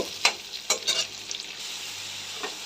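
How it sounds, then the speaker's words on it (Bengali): Sliced onion, green chili and two bay leaves fry in oil in a pan for a fish-head dal, giving a soft, close sizzle broken by a few sharp stirring clinks and scrapes. "এখন এই যে লাল লাল করে ভাজা হবে"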